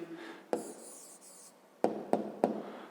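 A pen writes a math answer on paper with a soft scratching stroke and then a run of sharp, separate taps and scratches, close and quiet, with no voice.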